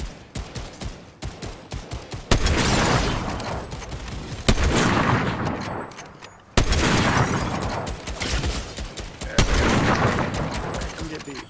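Gunfire in a shooter video game: loud, close bursts of rapid automatic fire alternate with sharper single shots, the volleys rolling on in repeated waves, with players talking over the battle.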